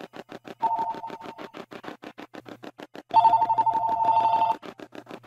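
A telephone rings with a repeating electronic ring pattern, loud and close, in two longer bursts over a steady pulsed tone, with no talking.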